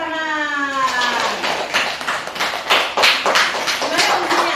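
A classroom of students claps hands together during a teaching session, a ragged burst of fairly loud claps over a fading tonal sound at the start, with a few voices mixed in.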